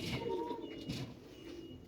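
Racing pigeons cooing at a pigeon club in Mirpur during a tournament day, with low, soft coos repeating close by over steady background noise and no talk.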